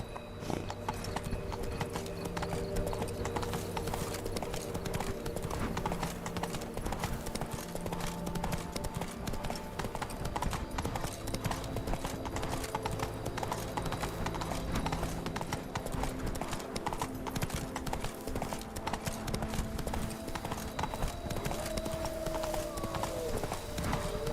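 The horse Roach trotting in Witcher 3, a steady, close, rhythmic clip-clop of hooves that runs throughout, with a brief whinny and low background game music.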